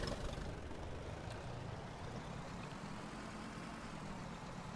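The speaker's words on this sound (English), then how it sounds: "There's my tractor" A tractor engine idles in the survival video game DayZ Epoch, a low, steady rumble that drones on without change for about five seconds.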